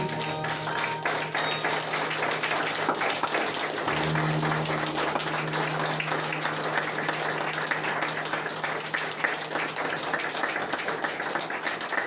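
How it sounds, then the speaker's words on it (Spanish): A congregation applauds during a Spanish-language Sunday church service, producing loud, dense, continuous clapping that holds steady throughout, with a low hum or drone running underneath. "¿Puedes dar un aplauso a tu Dios?"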